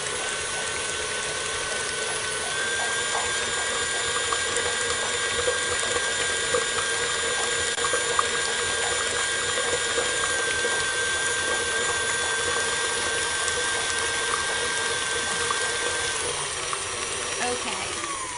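An electric mixer whirs steadily through a cream cheese pie filling in a kitchen, a continuous close motor drone with a faint shifting whine that runs unbroken for the whole stretch, no talking over it.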